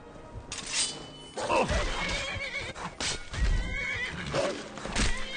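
A horse neighs and whinnies in The Elder Scrolls V: Skyrim, with hoof clops and thumping impacts around it, fairly loud and close.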